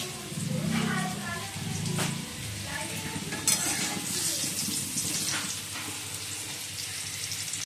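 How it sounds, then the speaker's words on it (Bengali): Potatoes fry in a pan on a home stove with a steady oily sizzle, stirred now and then with a few light utensil scrapes and clinks; a low murmur sits underneath throughout. "তা আলুগুলো ভেজে নিচ্ছি ফুলকপিগুলো এখনও ভাজিনি আর এই বেগুন এই বেগুনটা ভাজা হবে"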